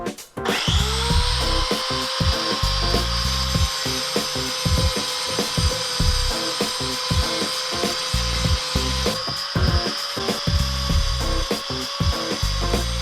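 Angle grinder working steel on a homemade motorcycle license plate mount for a CBR 600, a loud continuous whine running throughout with rapid scraping pulses as the disc bites and lifts.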